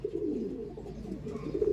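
Racing pigeons cooing close by, a soft, low, continuous burbling coo with no talk.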